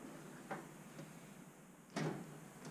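A drawer in a garage tool chest slides open or shut, with two short knocking bursts, the louder one near the end, over a quiet room hiss.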